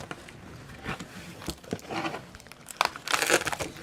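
A taped cardboard box is opened up close with a stretch of crinkling, scraping and tearing of tape and cardboard that builds to a louder ripping crackle at the end, with no speech.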